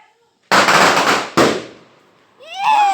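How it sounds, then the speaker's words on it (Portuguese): A firework rocket bursts at a backyard bonfire gathering with two sharp loud pops about a second apart, each trailing into crackle, followed by a person speaking close by. "vai estourar o foguete agora"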